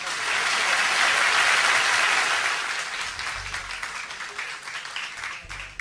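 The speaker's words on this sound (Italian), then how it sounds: "lo fate l'applauso forte tutti quanti?" A live concert audience bursts into loud, dense applause that peaks early and then thins to scattered clapping over a few seconds.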